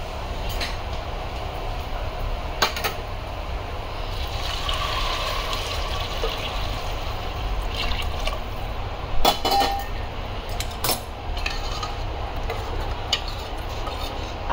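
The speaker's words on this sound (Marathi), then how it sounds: "आता याच्यामध्ये मी ते गरम केलेलं पाणी घालते" Hot water is poured into a pot of fried dal and rice for khichdi, a steady watery rush with occasional clinks of the vessel.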